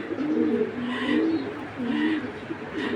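Belgian collection pigeons cooing in soft repeated phrases, close and fairly loud, with a faint voice in the background.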